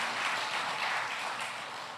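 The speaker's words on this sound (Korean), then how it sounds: "그분을 위해서 박수 한번 쳐주세요." An audience applauds at a lecture forum in a hall, a dense, steady wash of clapping that fills the whole moment and fades slightly toward the end, heard at a distance without speech.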